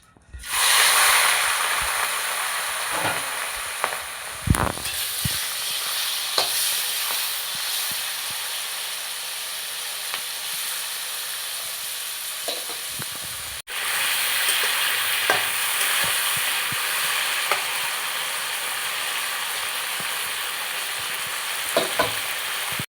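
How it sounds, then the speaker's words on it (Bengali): Prawns fry in hot oil in a pan, giving a loud, steady sizzle and hiss that carries on for the whole stretch, with brief stirring scrapes and pops and no talking. "তেলটা গরম হয়ে গেছে, এবার আমি চিংড়ি মাছগুলো ভেজে নেব"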